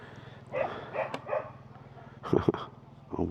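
Dogs bark a few times at feeding time, with a sharp pair of barks in the middle, alongside softer whining sounds and what may be a voice nearby.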